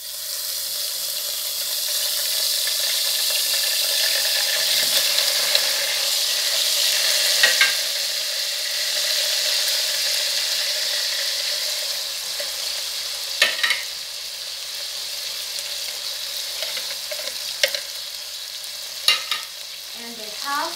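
Three cans of sardines frying in a pan for spaghetti, a steady hiss of sizzling oil with occasional sharp scrapes and knocks as a utensil stirs, with no talk.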